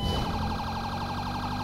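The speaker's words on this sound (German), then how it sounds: "Ich schalte mal die Scan-Sirene ein." Police car siren in GTA V: a rapid warbling wail that repeats in quick, even pulses, loud and close, heard alone with no speech.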